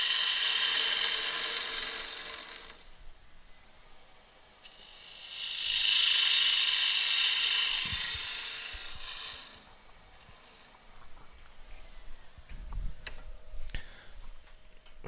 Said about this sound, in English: So I'm going to grab a spindle gouge, just pop that up, clean this off completely.